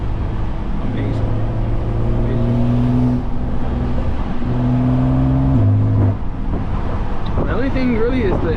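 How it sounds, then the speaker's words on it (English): A straight-piped 650 hp BMW F80 M3 drones steadily under load with a rising turbo whine, and the exhaust note shifts as revs change, heard close from inside the car while someone talks over it. "this thing sounds so like good, bro. And like when you went with no burbles, you can hear the turbo"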